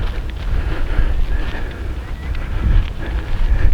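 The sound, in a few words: wind on Foulney Island coast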